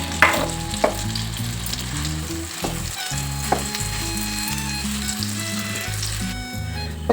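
Fine amla paste sizzles and fries in hot ghee in a pan, a continuous crackling hiss with occasional sharper pops, close and steady with no talking.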